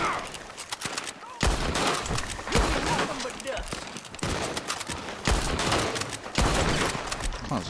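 Rapid gunfire in Red Dead Redemption 2, a dense series of sharp cracking shots in clustered volleys over several seconds, close and loud, with a voice talking over parts of it.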